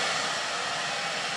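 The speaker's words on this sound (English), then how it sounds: "And allow your blow dryer to follow." A handheld blow dryer roars at close range while drying hair during brush styling, a loud, steady airy rush with no break.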